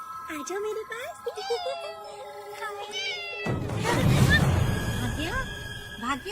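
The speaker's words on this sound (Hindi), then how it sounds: "दूसरी बिल्ली" A cat meows repeatedly with rising, wavering cries in a quiet indoor home setting, then a second stretch follows with louder, rougher background noise and a few more meows mixed in.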